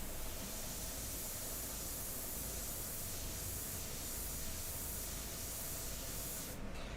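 An airbrush sprays India ink for a painting, giving a steady, even hiss that lasts the whole stretch, near and fairly soft, with no talking.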